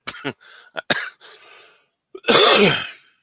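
Several sharp coughs in quick succession, followed after a pause by a longer, harsher cough or throat clearing, close and loud.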